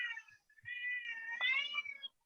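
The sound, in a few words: cat meowing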